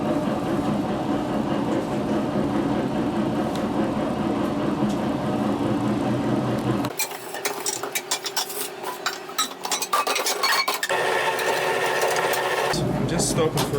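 A dough mixer runs on slow speed with a steady mechanical whir that shifts into rattling, clattering churning partway through, close and continuous, with some talk alongside.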